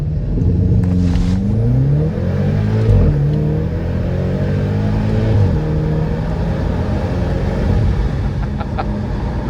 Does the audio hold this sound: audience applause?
no